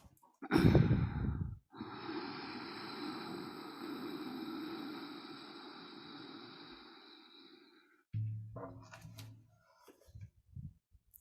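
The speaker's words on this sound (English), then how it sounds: "And we breathe in very deeply." A deep, long inhalation during a guided meditation, a strong breath sound followed by a steady sustained airy tone, then a few softer breaths and small noises near the end.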